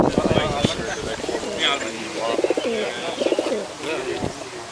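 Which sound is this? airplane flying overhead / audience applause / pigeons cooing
pigeons cooing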